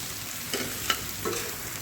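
Chopped onion frying in a pan for dry kaleji, a steady soft sizzle with a few stirring scrapes and clinks on top, moderately quiet and close.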